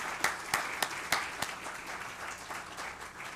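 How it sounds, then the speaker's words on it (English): An audience claps at an evening talk on addiction medicine and the opioid crisis, with a few sharp louder claps standing out early before the applause settles into a steadier, thinning patter. "I would just like to ask you to join me in applause"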